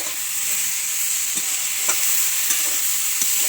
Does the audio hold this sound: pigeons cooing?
no